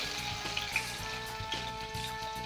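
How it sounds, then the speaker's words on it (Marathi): Crushed garlic, seven or eight cloves, sizzles in heated oil as a tempering is started, a steady crackling fry with a few louder pops, close and continuous with no talking. "आता आपण फोडणी करून घेणार आहोत"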